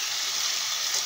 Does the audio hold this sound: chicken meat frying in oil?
yes